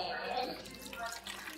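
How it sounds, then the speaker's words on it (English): Water trickles and drips briefly into a roasting pan holding chicken and carrots, a soft, close splashing that fades, with a louder knock at the very end. "Let's put a little bit of water. We don't need a lot. We just want it to steam."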